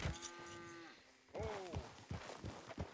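Cows in Red Dead Redemption 2 letting out two long, low moos close by, the second bending downward, followed by soft thudding steps.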